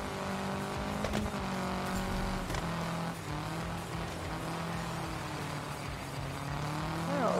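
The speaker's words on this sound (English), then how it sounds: "gotta try some drifting at least" Car drifting on snow in the rally game Gravel during a snowstorm, a continuous loud engine drone whose pitch swings up and down as the car slides, with faint tire hiss under it and no talking.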